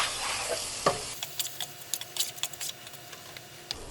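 Spices and mashed turnip are stirred in a pan, with a soft sizzle underneath and a run of light scraping and tapping strokes from the spoon.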